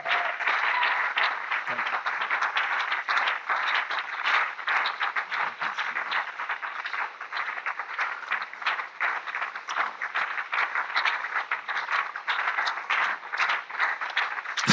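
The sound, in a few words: congregation cheering and acclaiming in church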